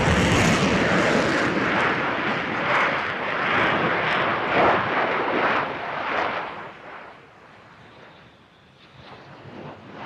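A Qatari Emiri Air Force F-15QA fighter jet roars loudly overhead during a flying display at the Farnborough International Airshow, its broad engine rumble surging and fading with wind buffeting the microphone.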